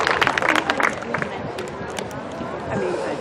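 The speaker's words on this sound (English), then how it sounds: "a big round of applause for Ryan" Outdoor crowd at a military appreciation race event applauding an Air Force serviceman: a dense wash of clapping, strongest in the first second, then fading into general crowd noise and chatter.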